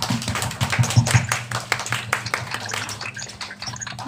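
An online Sunday school group clapping loudly for guests, a fast, dense patter of many hands that stays steady, then thins slightly, heard without talk.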